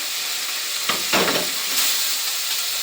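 Chicken frying in hot oil in a pan, a steady loud sizzle with brief bursts of crackling and stirring, with no talking.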